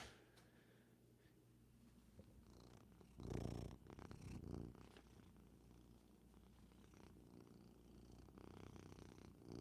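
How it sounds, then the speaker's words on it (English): A cat curled up in a duffel bag purrs softly and steadily at close range, a low rumbling that swells briefly louder in the middle, with no talking over it. "Hey, I'm gonna need you to purr for the people."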